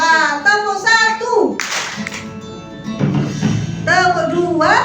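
An audience at an Indonesian motivational seminar claps a short group pattern in unison: a dense burst of claps in the middle, then another brief round, with a voice speaking before and after.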